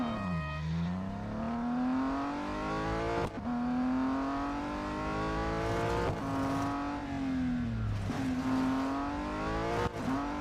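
A race car engine in the Real Racing 3 mobile game whines up through the gears, rising and dropping in pitch with several sharp gear changes. Faint tire skid noise sits under the steady engine tone, and no one talks.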